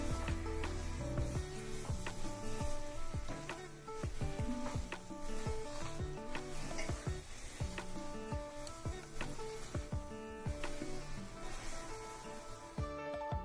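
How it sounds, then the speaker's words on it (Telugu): Halva stirred in a pan over a low flame, ghee seeping out as it cooks: repeated scraping and clicking strokes of the spoon with a faint sizzle, close by, running steadily beneath continuous background music with no talking. "బాగా సిమ్లో పెట్టుకొని కలుపుతూ ఉండండి."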